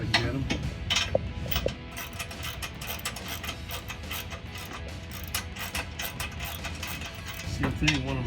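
A ratchet tightening bolts on Barricade HD textured black rocker steps fitted to a 2021-2023 Ford Bronco, giving quick bursts of close, crisp clicking with brief pauses between strokes.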